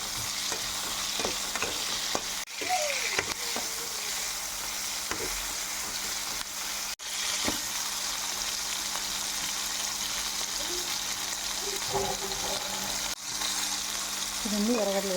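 Onions, tomatoes and garlic fry in a pan for a village-style okra curry, a steady close sizzle running throughout with occasional spoon scrapes and stirring clinks, and a voice speaking faintly at times.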